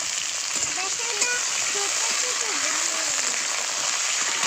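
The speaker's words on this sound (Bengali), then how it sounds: "আগে বেগুনগুলো ভেজে নেব এই বেগুনগুলো আমাদের বাড়িতেই হয়েছে ছোট ছোট বেগুন সাদা সাদা" Small homegrown white eggplants fry in a pan of oil with a steady, close sizzle and crackle throughout, while a voice talks over it.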